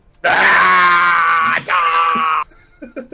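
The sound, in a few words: soldier screaming while firing, from video game XCOM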